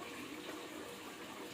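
A tap runs water into a child's toy in a short, steady, fairly quiet gush of flowing water.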